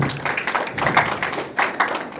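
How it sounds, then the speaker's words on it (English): Small audience clapping for a speaker at an academic event on student innovation, a brief patter of uneven hand claps, moderately close with no talk over it. "a round of applause for Kwame."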